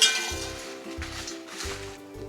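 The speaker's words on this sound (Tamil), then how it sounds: "இப்போ இந்த மிளகா லைட்டாக காயுதுன்றது அந்த மிளகா சவுண்ட்லேயே தெரியுது" Dried red chillies roasting in a pan for Tanjore sambar give a continuous light sizzle and crackle, with four regular low knocks of a spoon or pan every half second or so.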